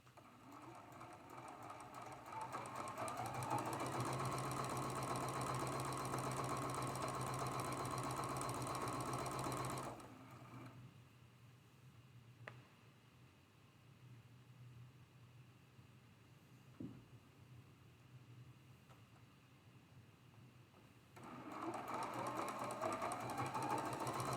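A sewing machine stitches Flying Geese quilt block pieces in long, steady, loud runs. The machine whirs continuously, pauses into a quieter stretch with small clicks, then starts up again at the end.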